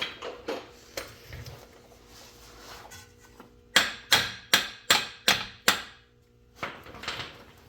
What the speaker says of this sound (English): if you have to give it a couple more taps